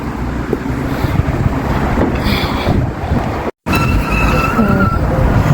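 Strong wind buffets the microphone in a constant loud rumble, with a brief dropout near the middle; no voices.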